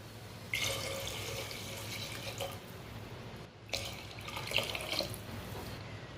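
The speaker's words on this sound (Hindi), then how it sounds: "अब 2 गिलास सादा पानी डाल लेंगे।" Water runs steadily for several seconds, with a brief pause midway before flowing again, splashing into a cooking pot of mutton pulao nearby.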